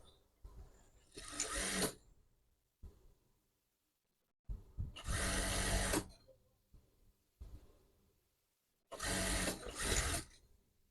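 Sewing machine stitching a white round-neck garment, three separate bursts of steady rapid whirring chatter with quiet gaps between them, fairly soft and close, no voices.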